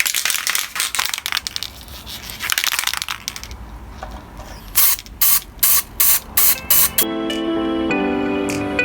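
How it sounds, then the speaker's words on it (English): A spray can of clear coat paint is shaken and sprayed during a car front wing rust repair, with hissing bursts, a run of short rattling shakes, then a steadier spray tone, close and fairly loud. "So we're going to give that a good shake for a minute or so"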